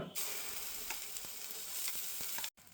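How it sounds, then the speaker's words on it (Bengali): Ground cabbage sizzles in mustard oil in a pan, a dense continuous hiss with faint crackles and a few soft stirring scrapes, close up and without voices, cutting off briefly near the end. "এবারে বেটে রাখা বাঁধাকপিটা দিয়ে দেব"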